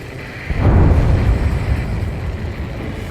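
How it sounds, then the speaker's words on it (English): In the Ace Combat 7 flight game, a huge underwater explosion erupts with a sudden deep boom, then a loud, rumbling low roar that slowly fades. "A huge explosion just went off underwater."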